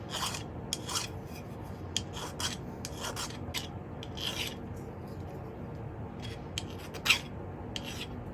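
A hand file rasps across a silver pendant to remove excess solder, close and quiet, in short irregular strokes with small clinks between them and no talking.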